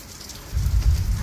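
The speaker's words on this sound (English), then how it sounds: "It's been raining ever since." Heavy, steady rain pouring down on a farm during a power outage, a constant hiss that swells into a louder rumbling patter partway through.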